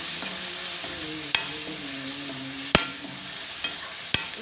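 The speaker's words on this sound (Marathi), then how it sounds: "आता टमाटर भुजूया छान" Tomatoes frying in a pan with chili powder and masala for a ridge gourd dish, a steady soft sizzle with a few sharp clicks of a spoon stirring against the pan.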